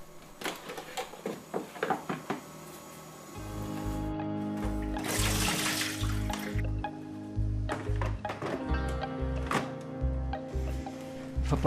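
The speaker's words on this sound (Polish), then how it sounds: "Pozostaje nam jeszcze opłukać tacki ociekowe oraz aktywować filtr wodny." Water splashing and dripping while the drip trays of a Saeco GranAroma espresso machine are rinsed: scattered drips and splashes, then a longer gush of running water with plastic clatter, close and fairly quiet.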